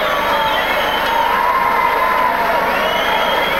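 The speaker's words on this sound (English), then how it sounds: "And a standing ovation from the crowd." Boxing crowd roars and cheers in a standing ovation, a dense, loud, sustained wash of voices and applause that fills the whole stretch.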